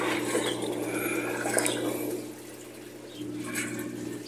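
A Whirlpool semi-digital washing machine pumps water out during its rinse stage, a steady gushing, gurgling wash of water over a low motor hum, loud and close, easing slightly midway before swelling again.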